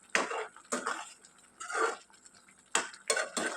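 Chili powder, coriander powder and garam masala stirred into an eggplant curry in a pan, a few separate bursts of spoon scraping and clinking against metal, close and moderately quiet, with gaps between strokes and no voices.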